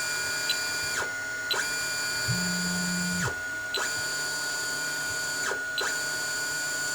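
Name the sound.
Anycubic Mega 3D printer lifting its Z-axis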